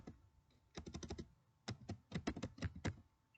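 Bursts of quick, close keystrokes on a computer keyboard as a short Korean word is typed into a speech-bubble text box, one rapid cluster followed by a pause and then a second, longer run of taps.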